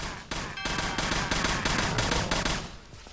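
Pistol gunfire aimed at yetis in a Tomb Raider custom level: a rapid series of about nine loud, evenly spaced shots, each a sharp burst, continuing for about three seconds.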